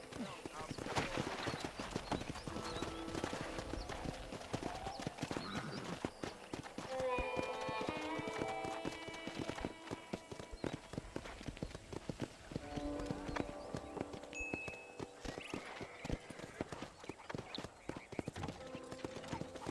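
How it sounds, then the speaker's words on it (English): In the Western video game Red Dead Redemption, horse hooves clip-clop steadily at a riding pace for the whole stretch, with occasional snorts and a whinny, while people talk over the hoofbeats. "let's see if you can still ride a horse"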